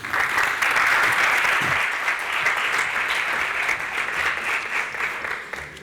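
Steady, dense audience applause at a book presentation on trade unions and socioeconomic well-being, sustained and fairly loud throughout before a union official begins speaking, with no voices over it.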